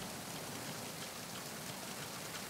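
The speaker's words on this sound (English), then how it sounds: "This rain effect's actually pretty good." Steady rain falls in the stealth action game Metal Gear Solid 2, a faint, even wash of droplets pattering on surfaces with no breaks or other sounds.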